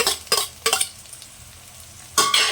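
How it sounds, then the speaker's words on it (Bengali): Green and red chillies fry with onions in a pan, heard as a low sizzle broken by several close bursts of stirring scrapes, with no voices. "এখন আমি কাঁচা পাকা লঙ্কা চিড়ে রাখা দিয়ে দিচ্ছি।"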